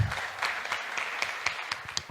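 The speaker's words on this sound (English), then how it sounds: "can we have a huge round of applause for CA Rajiv Hira?" A seminar audience applauds a tax speaker with a fairly steady run of clapping, individual sharp claps distinct within the crowd's moderate patter.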